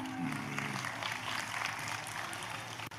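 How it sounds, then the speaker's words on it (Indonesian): Faint, distant applause for Nayaka at a Rajawali Group event and birthday celebration, a steady wash of clapping lasting the whole stretch. "Tepuk tangan untuk Yaka"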